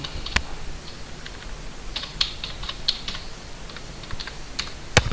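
Password being typed on a computer keyboard under Linux Mint 17 Qiana (KDE desktop): a quiet run of light key clicks in an uneven rhythm, framed by a couple of sharper, louder keystrokes at the start and end.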